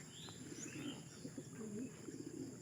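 Racing pigeons come in to land at their loft after a training toss, with faint, distant cooing and light chirps over a quiet outdoor background.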